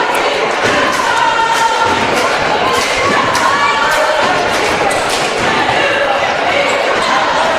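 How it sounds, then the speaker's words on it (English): Cheerleaders cheering in a basketball arena before tip-off at a high school hoops classic, a steady loud crowd roar with shouts and thuds of bouncing balls throughout. "Got the cheerleaders here too. You hear them cheering."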